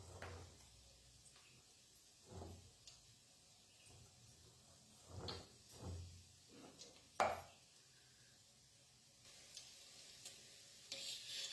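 Raw banana kofta fries in a pan with a soft, continuous sizzle. Several sharper clatters and scrapes of a utensil against the pan break through at intervals, and there is no talk.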